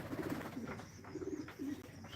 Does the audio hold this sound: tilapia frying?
no